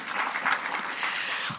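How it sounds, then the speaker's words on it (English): Audience applause at a 2024 annual event, a steady even clapping wash lasting under two seconds with no voices over it. "please clap for that"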